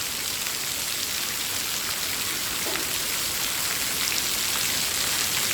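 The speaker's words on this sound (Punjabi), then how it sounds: "ਪੂਰਾ ਜ਼ਬਰਦਸਤ ਮੀਂਹ ਪੈਂਦਾ" Heavy rain pours down steadily over farmland in Punjab during a maize harvest, the first hard rain in days. It is a dense, even hiss throughout, with no voices.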